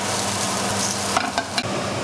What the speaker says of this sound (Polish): Smażymy steki